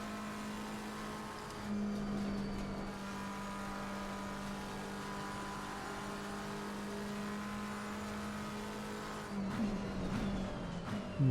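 Race car engine in Assetto Corsa Competizione as the driver lifts off the throttle, a sustained steady engine drone with a brief rise in pitch near the start and a burst of revs near the end, no talking.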